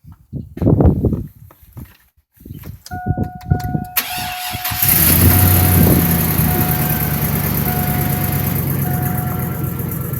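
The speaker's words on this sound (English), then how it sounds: "We might have to start the truck to get it cycled through." A 2002 full-size Chevy pickup truck engine cranks and starts after a few seconds of faint movement, then runs at a steady, loud idle with a sustained whine on top until the end.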